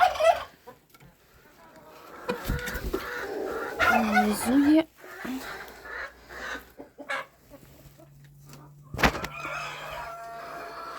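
Hens cluck and squawk close by in bursts while being fed mash, mixed with a person talking and rustling movements, with louder flurries midway.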